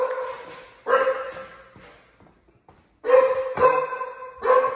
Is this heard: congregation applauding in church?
no